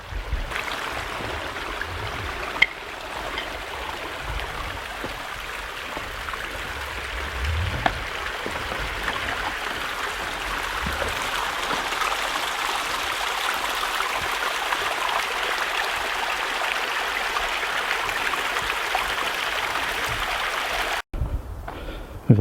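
A waterfall and stream in a snowy canyon with slushy ice give a steady broadband rush of water, constant and fairly loud throughout with a few faint knocks, no voices.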